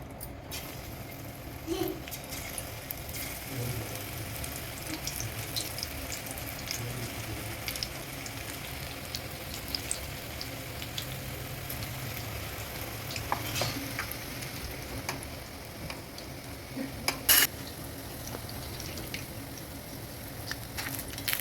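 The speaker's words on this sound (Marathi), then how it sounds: "तेल चांगलं तापल्यानंतर भजी तळताना मिडियम फ्लेम ठेवायची गॅसची" Spinach pakoras fry in hot oil in a kadhai over a medium gas flame, a steady, soft, continuous sizzle and bubbling that runs throughout with occasional small clinks.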